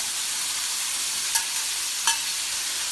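Capsicum and mushrooms frying in freshly poured oil, a steady bright sizzle throughout with two short scraping stirs of a spatula in the pan, close and fairly loud, no talking.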